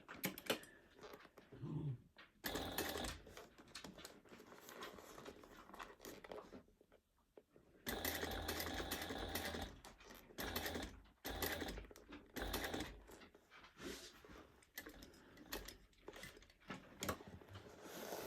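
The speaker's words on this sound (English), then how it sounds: "I'm going to stitch just on the other side, so on this side of the ear, and I'm going to sew a little bit past the ear as well." A sewing machine top stitches a fabric bunny ear at 1/8 inch, running in quiet rhythmic mechanical runs with a brief pause midway, faint and close.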